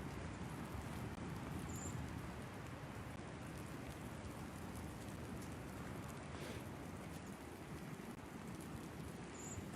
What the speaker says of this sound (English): It's also raining a little bit, which actually sounds really nice.